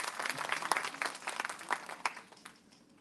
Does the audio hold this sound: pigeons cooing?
no